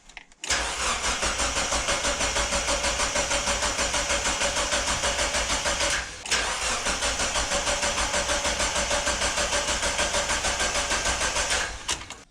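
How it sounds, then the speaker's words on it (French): A Mazda MX5 engine cranks on its starter motor with the spark plugs disconnected, a loud, close, rhythmic churning that runs steadily for several seconds, stops briefly, then resumes without ever firing. "Allez, petit coup de démarreur."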